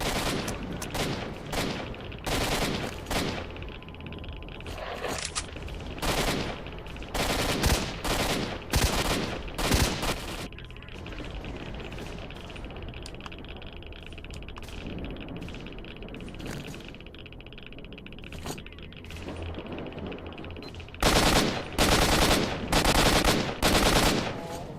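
Bursts of automatic enemy gunfire in S.T.A.L.K.E.R.: Shadow of Chornobyl, loud rattling volleys in clusters at the start and end, with quieter sporadic shots and ambient noise between.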